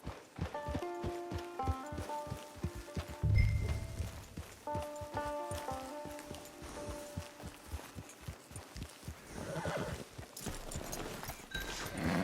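Steady clip-clop of horse hooves walking at an even pace in Red Dead Redemption 2 Online, near a camp, with music playing underneath and a brief low thump partway through.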